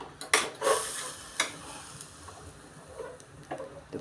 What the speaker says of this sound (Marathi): तर आपण यात टाकतोय आता दूध